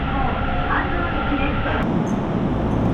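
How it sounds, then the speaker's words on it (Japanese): An express train bound for Hannō stands at a station platform, giving a loud, steady rumble of rail and station noise that fills the whole stretch, with a brief sharp click partway through. "ここにはちょうど急行飯能行きの電車が停車しているようなので、こちらの電車に乗車したいと思います。"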